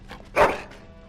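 A single close bark from a dog in the video game Dragon Age: Origins, sharp and fairly loud, with a fainter yip or two around it.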